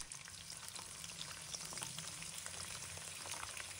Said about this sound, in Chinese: 滋滋的声响在锅中响起，这是腐竹与热油碰撞产生的美妙音符